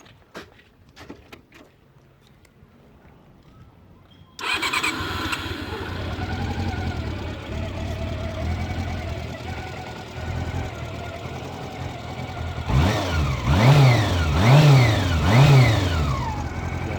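Honda CB 400 Super Four motorcycle fires up after a few faint clicks, settles into a steady four-cylinder idle, then revs in three rising and falling pulls near the end, loud and close.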